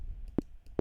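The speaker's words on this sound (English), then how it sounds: "this is just a very basic sounding click." Two crisp, evenly spaced metronome clicks, short and dry, with nothing else around them.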